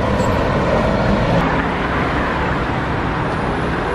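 Street traffic roar as a bus passes nearby, a loud, continuous broadband rush of engine and road noise with a faint hiss that may be air brakes, no talking.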